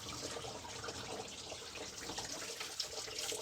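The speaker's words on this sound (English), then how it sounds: "We're just going to sprinkle a little bit of water now." Steady splashing spray of water sprinkled onto a 2010 Toyota Corolla 1.8 engine, continuous and fairly close, with a broadband hiss throughout and no talking.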